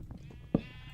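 A single short sheep bleat sounds in Minecraft, brief and moderately close against a quiet background.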